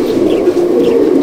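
Kalanka pigeons in a loft at Halisahar, North 24 Parganas, cooing in a close, continuous low burbling drone with no speech over it.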